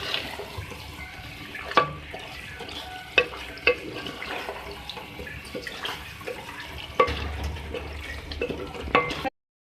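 Beef keema with green chillies fries in a pan, a low sizzle broken by sharp spatula scrapes and clacks at irregular intervals, close and moderately loud with no talking.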